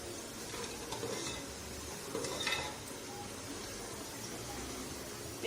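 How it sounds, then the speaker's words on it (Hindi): Chopped onion fries in hot ghee in a pot for beef pulao, giving a steady, fairly quiet sizzle and crackle with a brief louder burst of stirring midway. "अब हमने जो प्याज काटा हुआ था उसको अब हम घी में फ्राई करेंगे।"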